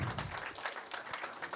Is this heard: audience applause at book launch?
yes